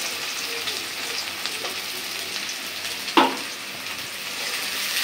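Chopped onions and green chillies fry in oil in a pan in a village kitchen, a continuous close sizzle broken by one sharp knock or scrape midway, with no voices.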